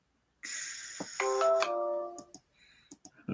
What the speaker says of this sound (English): That was just my phone going off.